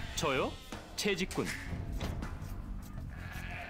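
Sheep bleat twice in close succession in Age of Empires II, a game animal's short wavering cries heard up front, followed by softer game ambience and background murmur.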